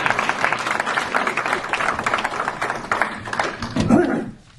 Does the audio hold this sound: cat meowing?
no